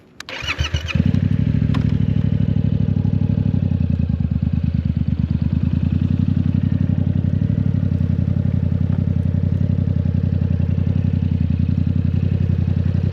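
A 2023 Yamaha MT-07 motorcycle starting up and settling into a steady, throbbing idle, close and loud with an even rhythmic pulse throughout.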